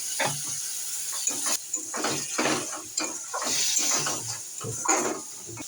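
Spices being stirred and fried in a pan during kosha, with a little water added: wet sizzling and sputtering under repeated scraping strokes of a spoon against the pan, close and moderately loud, with no talk.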